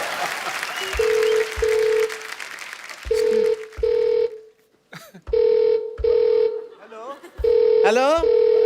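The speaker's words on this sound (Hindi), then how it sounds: "फोन आ रहा है" A telephone ringing on a comedy show set, repeated electronic ring bursts in a regular on-off pattern, loud and close, with brief voices and laughter between rings.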